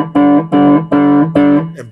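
An electric guitar played through a Skydog pedal with the treble cut gives four evenly spaced, sustained distorted chords or notes, warm and loud, each ringing briefly before the next.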